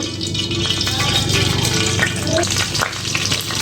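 Hot oil sizzles loudly and steadily as mustard seeds fry for tempering chickpea sundal, with small crackling pops running through the hiss.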